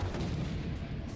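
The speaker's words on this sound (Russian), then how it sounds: "какой взрыв-то был" A heavy, booming video game explosion in Hill Zombie Racing: Earn To Climb, with a deep rumbling roar, short and loud.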